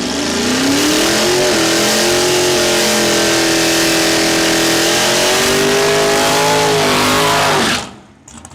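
A dragster engine roars at a drag race, a loud sustained revving run with rising and falling pitch that cuts off abruptly near the end, leaving faint background.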